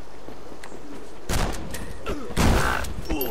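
Gunfire from the side-scrolling action game Rocketbirds: Hardboiled Chicken, a couple of sharp, dense bursts of shots over a steady background hum, loud and close with no talk.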